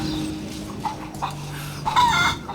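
A chicken clucks and squawks in Rise of the Tomb Raider, with short, sharp fowl calls over a low steady game ambience, fairly close and clear, with no one talking.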